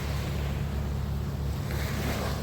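Sea waves wash steadily onto the shore at Anawangin Cove, a continuous loud surf roar mixed with gusting wind noise on the microphone, with no voices.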